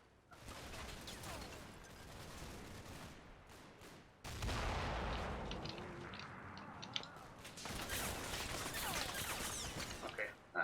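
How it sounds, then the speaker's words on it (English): Rifle and machine-gun fire from troops on a Normandy battlefield in a WWII tactics game, dense overlapping bursts and fusillades that swell louder midway, with a voice talking faintly underneath. "So the guys in position of a road are starting to put down some fire as well."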